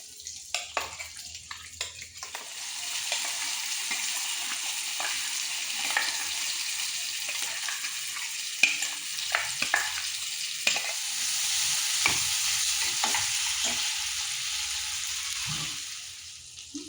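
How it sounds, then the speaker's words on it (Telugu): Mushroom curry with tomato puree sizzles and crackles steadily in hot oil in a kadai, with intermittent scraping and stirring sounds, fairly close and without any talking. "ఇది ఆయిల్లో మొత్తం ఫ్రై అయ్యేంత వరకు కుక్ చేసుకోండి"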